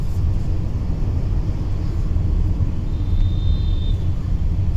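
A Kia Sonet pulling along a highway, heard from inside as a steady loud low road and engine rumble with wind noise, smooth and unbroken, a faint whine appearing briefly.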